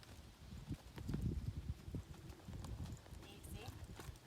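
A horse's hooves beat on the ground in an uneven, quiet clip-clop rhythm, soft and fairly close, while the animal is ridden at a lope.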